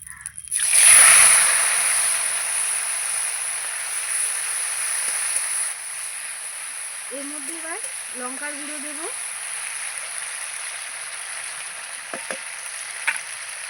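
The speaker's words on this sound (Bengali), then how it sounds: "এবার এর মধ্যে আমি এই যে জিরে আদা রসুনটা বেটে রেখেছিলাম এটা দিয়ে দেবো একটু জল দিয়ে গুলিয়ে" Ground cumin, ginger and garlic paste loosened with water hits a hot pan with a loud splash and hissing burst, then settles into a steady sizzle; a voice speaks briefly partway through.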